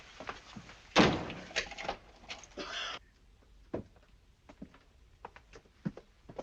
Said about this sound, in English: Lock the door, will you?